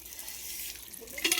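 Hog plums (amra) are washed by hand in water, with soft splashing and sloshing that picks up into a brief, brighter splash near the end.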